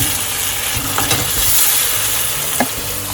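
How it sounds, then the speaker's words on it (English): Mushrooms cook over high heat in a pan for a dhaba-style kadai mushroom dish, a loud, steady sizzle and crackle with occasional scraping stirs, close and without talk. "My mushrooms have been cooking for 5 minutes now and I'll remove them from heat."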